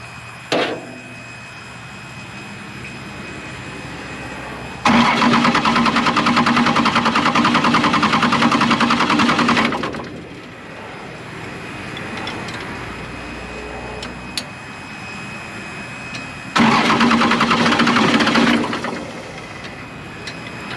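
First-generation Cummins diesel engine in a truck, with cleaned and pop-tested injectors, cranking and firing in two loud bursts of roughly five seconds each, separated by quieter clicking and ticking with no talk.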